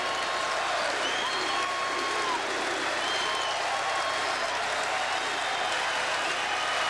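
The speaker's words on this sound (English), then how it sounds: "big sellout crowd" A sellout basketball arena crowd at SIU versus Creighton fills the space with steady, dense applause and cheering, a continuous roar that holds even throughout.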